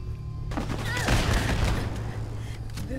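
Automated turret fire in Fallout 4, a sustained burst of loud, dense gunfire that starts abruptly after a brief quiet moment and keeps going in rapid overlapping shots.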